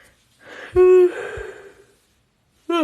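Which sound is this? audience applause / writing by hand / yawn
yawn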